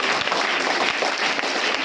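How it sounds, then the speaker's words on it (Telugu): An audience at a village book-launch function applauds together, a dense, even wash of clapping that holds steady throughout at moderate loudness, with no talking over it. "అమీర్ బాబు గారికి ఒక్కసారి మన చప్పట్లతో ఇప్పుడు"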